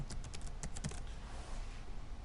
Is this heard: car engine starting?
no